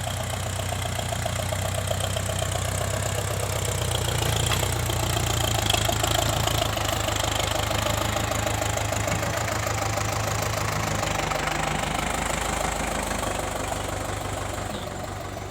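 A heavy tractor engine runs steadily at close range, knocking and rattling with a constant low throb and no pauses.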